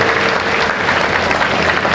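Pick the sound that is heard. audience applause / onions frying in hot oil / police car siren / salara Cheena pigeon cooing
audience applause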